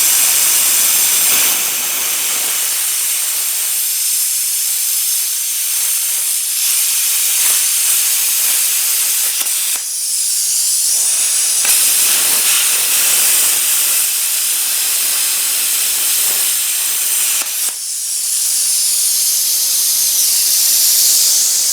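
Primeweld CT520DP plasma cutter slicing through metal, a loud, harsh continuous hiss close by that runs for long stretches, briefly cutting out and restarting a few times.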